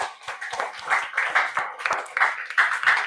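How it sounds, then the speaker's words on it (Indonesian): A class claps hands together in a classroom, a moderately loud burst of fairly rhythmic clapping that runs for a few seconds and includes a few voices. "Tepuk tangan."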